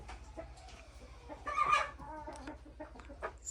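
Turkeys and chickens on a farm cluck and gobble, with a louder burst of calls in the middle rising out of a scattered, moderately close flock.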